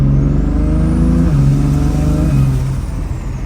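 A single-turbo BMW N54 car engine drones loudly as the turbo spools up to 27 psi, its pitch climbing and holding steady before the sound eases off near the end.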